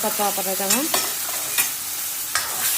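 Tomato puree with garam masala frying and being stirred in a pan, a steady close sizzle with a few sharp scraping strokes of a spoon, no voices.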